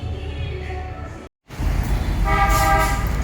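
Loud car horn blasts cut through busy street traffic in Vietnam, one honk early and a stronger, sustained honk after a brief gap, over continuous engine noise.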